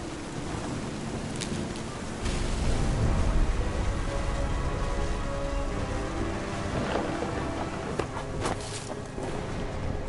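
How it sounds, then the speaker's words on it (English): Steady rain with low rumbling thunder in the video game What Remains of Edith Finch, a continuous wash of downpour that swells louder after the first couple of seconds, with a few sharper cracks scattered through. "The thunder sounded much too close and full of angry power."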